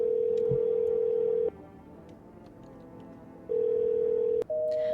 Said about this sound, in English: What happens if I call him now while he's over?